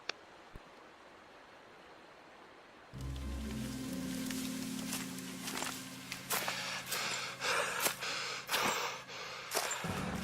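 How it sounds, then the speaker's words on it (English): Heavy, raspy mouth breathing sits close up over a steady low rumble, with irregular gasping and snorting breaths after a quiet opening. "Just mouth breathing, you know."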